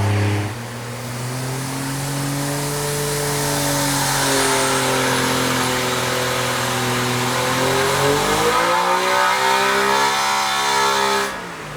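A supercharged 1962 Slant Six revs hard on a dyno, a loud, steady engine drone with rising and falling harmonics, dipping briefly near the eighth second before climbing again, close and alone with no talk.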